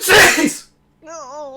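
One loud, sharp sneeze bursts out close by, followed by a brief silence and then a person speaking.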